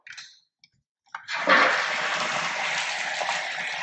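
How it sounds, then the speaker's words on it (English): A jetted bathtub's tap is turned on in a house for sale in Chicago's Westlawn neighborhood. A couple of brief clicks and a splutter come first, then water gushes in a loud, steady, close rush until the end. "let me see if the water is even on"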